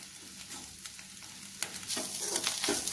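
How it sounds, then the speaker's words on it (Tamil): Eggs fry in a pan with pepper powder for egg rice, a close steady sizzle that swells after a sharp stirring scrape, with quick spatula strokes. "இந்த ஸ்டேஜில் கொஞ்சோண்டு பெப்பர் பவுடர் ஆட் பண்ணிக்கோங்க. இப்போ முட்டை நல்லா வேகட்டும்."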